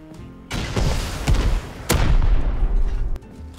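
Rockets are fired in a video game. Several loud, booming launch blasts come in quick succession over a dense rumbling roar, and the din stops abruptly.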